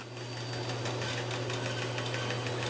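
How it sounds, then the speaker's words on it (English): A bandsaw cuts a shoe down to its basic shape, giving a steady mechanical hum with a low motor tone and a faint rhythmic buzz, close and constant, with no voices. "The first step is to use the bandsaw to cut the basic shape."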